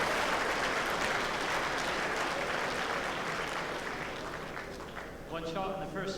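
A crowd applauds at a bowls championship, sustained clapping that fills the space and gradually fades, with a commentator's voice coming in near the end.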